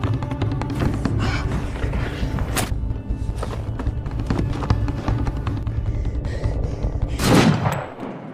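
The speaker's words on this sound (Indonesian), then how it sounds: "Namun suara tembakan yang terdengar kali ini bukanlah pertanda baik bagi Isla maupun Remy" Scattered gunfire in a film scene, with sharp cracks and thuds over a dense, rumbling background, with a louder burst of shots near the end.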